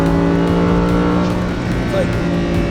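A Lamborghini accelerating in sport mode heard from inside the cabin, a steady loud engine drone with layered harmonics under ongoing conversation.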